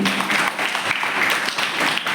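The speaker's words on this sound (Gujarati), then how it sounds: "એકવાર પેલા આપણે જોરદાર તાળી પાડી" Applause at a classical dance school event, a dense, sustained round of clapping from a crowd, close and fairly loud, continuing unbroken from start to finish.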